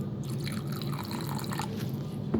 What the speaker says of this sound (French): on rajoute de l'eau parce qu'elle est trop épaisse